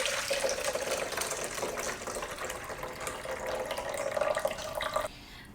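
Green juice streams steadily out of a running juicer for a post-workout drink, a close, continuous liquid pouring and splashing sound over the machine's hum, ending abruptly after about five seconds.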